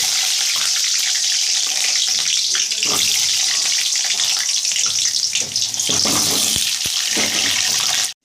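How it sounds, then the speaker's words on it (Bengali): Potatoes fry in hot mustard oil in a wok, giving a loud, dense, continuous sizzle with occasional stirring knocks throughout. "এবার আলুগুলো আমি এর মধ্যে দিয়ে ভালো করে ভেজে নিই।"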